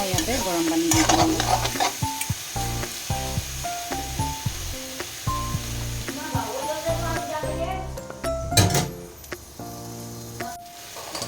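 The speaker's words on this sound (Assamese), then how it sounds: "এইখিনি আৰু অলপ দেৰি ভাজিব লাগিব" Jackfruit curry fries in a pan, with a steady loud sizzle and repeated scraping stirs throughout. A voice talks over the cooking.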